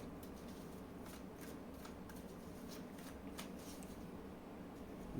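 Tarot cards being shuffled by hand, a steady soft papery rustle and riffle that runs continuously at an even level with no talking.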